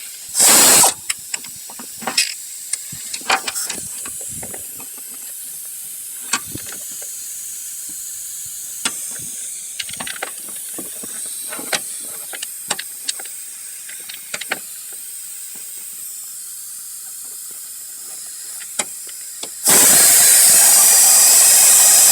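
An air-powered tool spins water pump bolts out of a 2010 Toyota Prius, with a burst of air hiss at the start, a long stretch of quiet clicks and ratcheting taps, and then a loud sustained hiss of air at the end.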